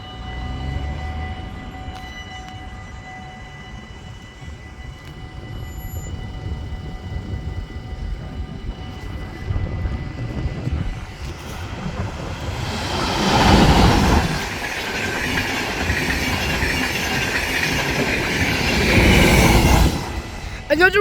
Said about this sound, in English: There's a train nearby, waiting at that station.